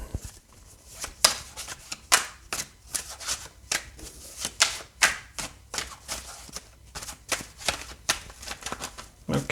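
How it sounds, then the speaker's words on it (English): Tarot cards being shuffled by hand, a close, steady run of crisp riffling bursts and soft slaps repeating in quick irregular rhythm with no talk over it. "So we'll just shuffle those back in."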